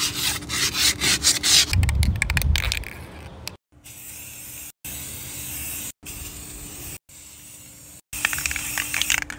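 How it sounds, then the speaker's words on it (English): Sandpaper rubbing over a sun-dried rubber tire being turned into a garden flower bed, a close, steady rasping scrape in repeated strokes broken by short pauses. "let's rough it up with some sandpaper"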